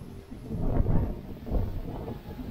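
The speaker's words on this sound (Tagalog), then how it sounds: "Lakas na pala ng hangin." Strong typhoon wind gusts buffet the microphone outdoors in low, rumbling surges, two heavier blasts rising and falling over a couple of seconds.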